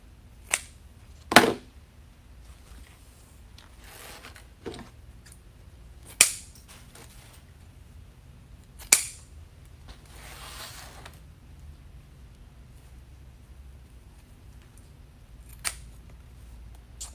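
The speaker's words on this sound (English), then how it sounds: "I'm going to trim these two down because I don't want them hiding the words." Scissors trimming pieces on a DIY grapevine wreath, a handful of sharp isolated snips spaced several seconds apart against a quiet background.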